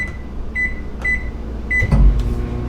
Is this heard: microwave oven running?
yes